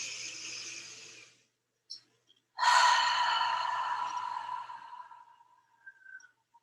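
Deep breathing during a yoga class: a long breathy exhale, a short pause and quick catch, then a louder drawn-out breath that slowly fades, close and clear without talk.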